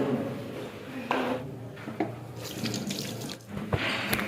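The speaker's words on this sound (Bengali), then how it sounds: "হাত ধুয়ে নি" Hands washed under a running tap at a sink, water splashing steadily and close with brief clinks and shifts in the flow as the hands move.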